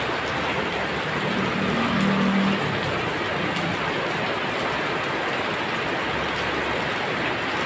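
Steady, dense rain patters evenly throughout, a constant wash of noise with a faint low hum early on.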